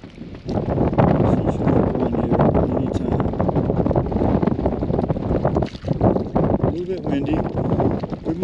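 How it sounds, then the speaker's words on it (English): Strong wind gusting across an alpine lake in Colorado buffets the microphone in a continuous loud roar with rumbling low-end bursts, and a person speaks briefly over it. "Windy."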